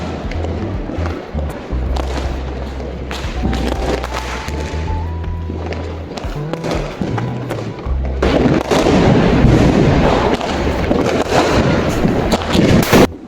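Diwali firecrackers bursting in a rapid string of loud, sharp cracks and pops, dense and continuous across the whole stretch and fairly close, with no voices over them.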